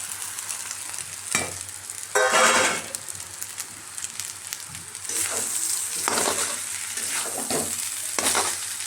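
Cooked rice is stirred and tossed in a hot pan for homemade fried rice, with a steady sizzle and occasional scraping bursts from the spatula. Several louder stirring strokes come at irregular intervals.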